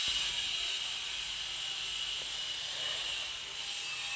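A gas stove burns steadily with a broad, even hiss beneath a covered pan of boiling taro, close and continuous, with no talk.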